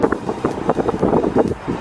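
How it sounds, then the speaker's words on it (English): Wind buffeting the microphone at a high lookout, gusty low rumbling bursts that rise and fall unevenly over a couple of seconds. "A little windy up here though."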